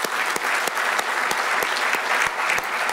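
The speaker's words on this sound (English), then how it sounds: "Big round of applause, please." Sustained applause from a conference audience at a football event, dense clapping with a few louder individual claps standing out, steady and fairly close throughout.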